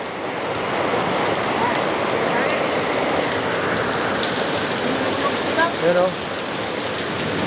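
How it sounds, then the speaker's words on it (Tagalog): Heavy rain pours down steadily, a dense, loud hiss throughout, with a voice briefly heard near the end. "Sumilong lang ako dito kasi nga malakas ang ulan."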